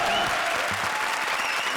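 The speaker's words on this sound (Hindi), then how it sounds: "जोरदार तालियां।" A studio audience at a comedy show bursts into loud, dense applause that holds steady throughout, with crowd noise and voices mixed in.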